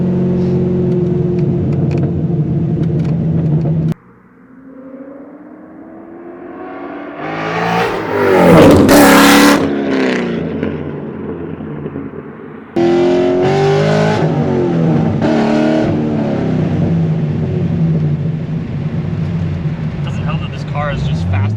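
A C6 Corvette Grand Sport drift car with straight-piped Hooker Blackheart exhaust idles with a loud rumbling burble, then revs up in a sharp rising snarl and falls back before settling into another loud, lumpy idle up close.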